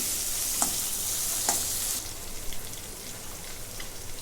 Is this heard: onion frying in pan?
yes